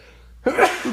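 A single sharp human sneeze bursts out after a quiet moment in an indoor room, close and loud, with a brief trailing exhale.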